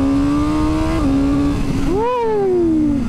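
A 2022 BMW S1000R naked motorcycle engine winding up, a strong rising then falling rev with a clear whining tone, holding steady before swelling once near the end, close and loud.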